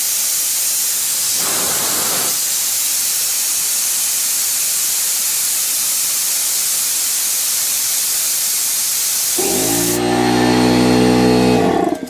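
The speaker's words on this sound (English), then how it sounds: "Okay, so at 8 bar, the compressor will fire back in" An SGS air compressor hisses in a long, loud steady rush of escaping air, then its motor kicks in with a droning hum near the end.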